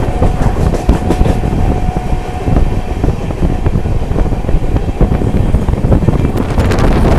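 An Amrit Bharat Express rushes at high speed through a station near Howrah, its loud steady rumble of rolling wheels and rail clatter filling the whole stretch without letting up.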